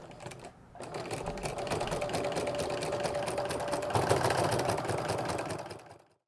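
A sewing machine stitches slowly into the corner of a quilt-as-you-go placemat, a continuous near, even mechanical whir with a fast tapping rhythm that stops abruptly at the end.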